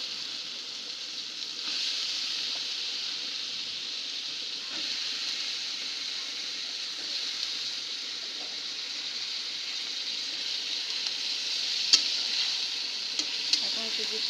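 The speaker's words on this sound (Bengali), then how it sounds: "এবার পটলটাকে দিয়ে দিব।" Pointed gourd (potol) fries in a pan of hot oil, a steady hiss and sizzle running unbroken throughout, with a few faint stirring clicks near the end and no voices.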